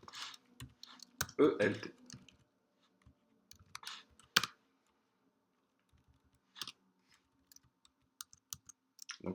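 Java code typed on a computer keyboard, sparse clicks and short bursts of keystrokes at close range, with a voice speaking between them.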